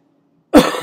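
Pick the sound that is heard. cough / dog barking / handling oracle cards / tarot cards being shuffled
cough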